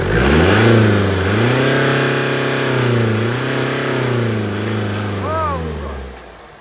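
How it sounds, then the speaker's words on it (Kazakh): A 2020 Mercedes E 200d diesel engine revving under pressed throttle, its loud tone rising and falling in several smooth swells, ending with a brief higher rev before settling. "Газды кичине басып коебуз. Мотордун да үнү угайын."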